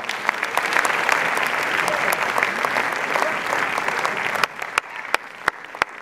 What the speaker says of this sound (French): Encore une fois, on les applaudit très très très fort.